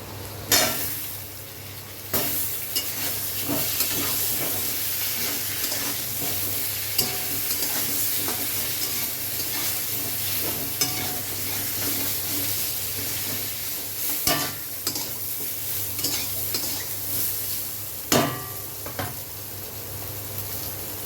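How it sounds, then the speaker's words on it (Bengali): Steady sizzling of vegetables, including pointed gourd, frying in a pan, with occasional clinks and scrapes of stirring, close and continuous, no talking. "সবজিগুলো ভাজা হয়ে গেছে"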